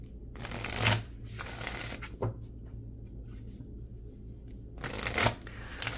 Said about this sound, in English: They need lots of shuffling.